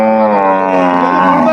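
A cow at a cattle market lets out a single loud, close, sustained moo that lasts the whole moment, with no talk over it.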